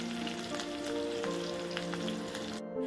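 Chopped onion tadka frying in a pan for Punjabi kadhi, a soft, even sizzle with light crackles and a faint tonal hum, cutting out abruptly at the end.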